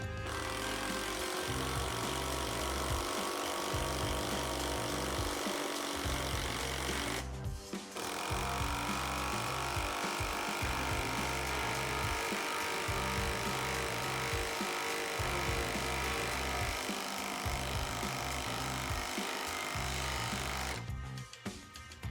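An impact driver fitted with a socket drives a very thick lag screw into wood, hammering in loud, rapid rattling bursts with a brief pause partway through and a stop at the end.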